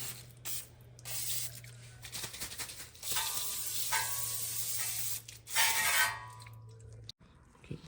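Brake cleaner sprayed onto the front hub of a 2016-2021 Honda Civic: a close hissing aerosol spray in several long bursts, with short pauses and faint dripping between them, ending abruptly.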